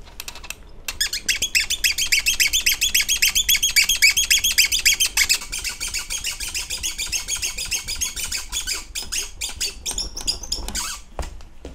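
A Joyor Y6 electric scooter with about 1100 km of use squeaks steadily while being ridden, a dense, rapid run of high chirping squeaks that carries on for the whole stretch with no talk.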